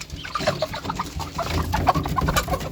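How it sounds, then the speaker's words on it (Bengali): Several Tiger breed chickens cluck and chatter close by, overlapping short calls in an uneven rhythm against a busy farmyard background. "আমার মুরগিগুলো দেখিয়ে দিলাম"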